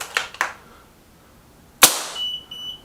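Remington Vought air rifle fired over a chronograph, one sharp loud crack near the middle after a couple of faint clicks, followed by a brief high electronic beep.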